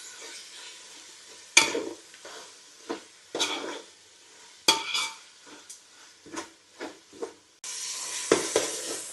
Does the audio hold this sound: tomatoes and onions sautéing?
yes